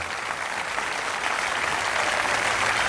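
Dense, steady applause from a large outdoor audience at a comedy show at the Arena dello Stretto, cheering blood donors, loud and continuous from start to finish.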